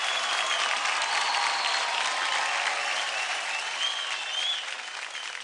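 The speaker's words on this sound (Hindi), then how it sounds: "जोरदार तालियां हो जाए" A studio crowd at a dance competition grand finale applauds steadily, a dense wash of clapping that carries on for several seconds and fades slightly at the end.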